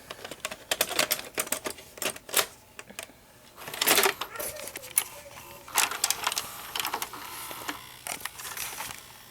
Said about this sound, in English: So let's put our tape in and see what happens.